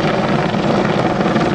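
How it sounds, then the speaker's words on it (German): Military EC-145M helicopters circle overhead during a special forces operation exercise, a loud steady rotor and turbine drone with no pauses over the short stretch. "Die Hubschrauber, die über euch weiterhin kreisen, das sind sogenannte Spur-to-Control-Maschinen."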